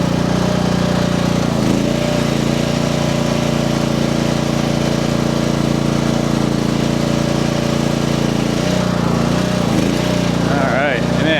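A small Chinese mini skid steer clearing deep snow runs its engine steadily and loudly up close in a continuous droning idle, with faint voices mixed in.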